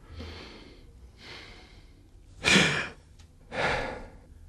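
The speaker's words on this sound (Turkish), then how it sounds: "Şimdi de derin nefes alıyorsunuz" A person breathes deeply, with two soft inhales followed by two louder, sharper breaths. The breaths are close and clear, with pauses between them and no speech.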